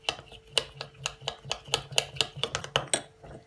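Spoon or whisk scraping and clinking against a bowl while melted chocolate, milk and butter are stirred together, a steady run of sharp close taps and scrapes at a brisk rhythm, with no talking.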